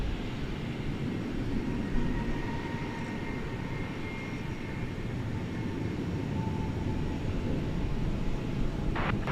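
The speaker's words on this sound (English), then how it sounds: "We've got an Embraer 175 coming in on the east side." An Embraer 175 airliner landing at night at DFW Airport gives a steady, broad engine roar and rush of wind that stays fairly constant and distant throughout.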